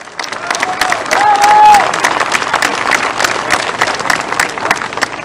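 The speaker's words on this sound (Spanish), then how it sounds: "pido un cálido y fuerte aplauso a estos hijos de esta" Loud crowd applause with some cheering at the inauguration of an industrial lithium carbonate plant, dense clapping throughout with a brief whistle-like tone early on.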